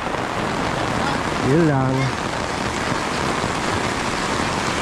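Steady September rain falls in a broadband hiss throughout, heard at a Philippine construction site, with a brief spoken phrase partway through.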